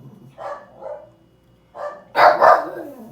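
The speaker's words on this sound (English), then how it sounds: "I gotta stop these dogs." Dogs bark indoors in a few separate bursts, two softer woofs followed by a louder, closer pair of sharp barks near the end, with quiet gaps between them.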